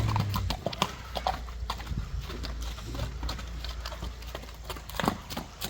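Hooves of a young horse clatter over the ground in an uneven trot, close and fairly loud, with irregular clip-clop beats and faint background noise.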